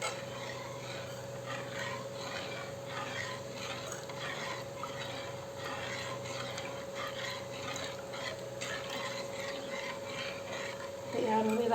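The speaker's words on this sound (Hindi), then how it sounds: "फिर आपको चलाना है इसको उबाल आने तक" Kadhi being stirred in a pot as it heats toward a boil, with a steady scraping and bubbling texture in a home kitchen, continuous and fairly quiet throughout, with a faint hum in the background.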